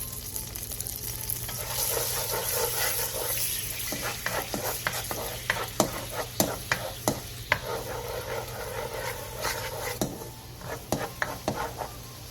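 Soy sauce, anchovy fish sauce, soju, sugar, minced garlic and cooking oil bubble and sizzle in a pan over medium heat, with a steady hiss broken by frequent sharp clicks and scrapes of stirring.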